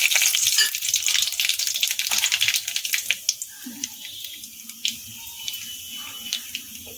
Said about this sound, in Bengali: তেলের মধ্যে আমি কালো জিরে আর একটা শুকনো লঙ্কাকে ফাটিয়ে আমি দিয়ে দিলাম ফোড়নে